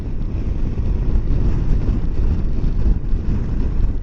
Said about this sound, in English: It's going to be awfully hard to try to keep the wind noise down on my microphone.